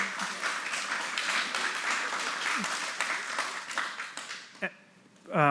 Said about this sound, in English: I deserve no applause.